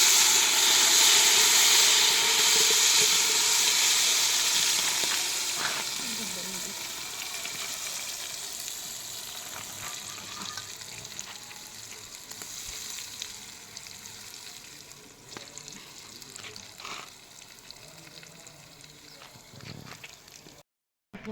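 Handvo batter pours into a hot pan on a wood-fired clay stove and sets off a loud, steady sizzle that slowly fades to a softer frying hiss, with faint clatter and a voice in the background.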